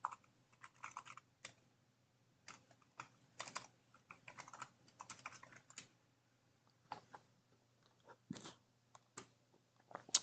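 Typing on a computer keyboard, close and quiet, in irregular bursts of soft key clicks separated by short pauses, with no talking.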